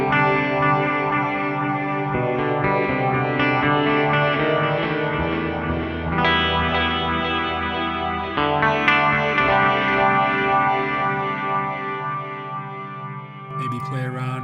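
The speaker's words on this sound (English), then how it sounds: "let's get some gratuitous delay and reverb happening" Electric guitar played through a spacey Romesh Dodangoda preset in STL Tones ToneHub with heavy delay and reverb, sustained chords blooming into long echoing tails, loud and alone, ending with a brief scrape of strings.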